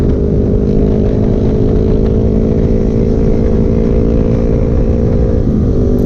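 An NK400 and a Yamaha Sniper 155 motorcycle race, their engines making a loud, close, continuous droning roar at a steady pitch that shifts slightly near the end.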